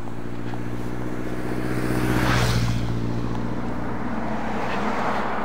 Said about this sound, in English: A motorcycle.